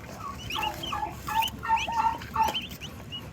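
A cluster of turkey poults chirps and peeps in high, repeated calls, close by, over a low background hum.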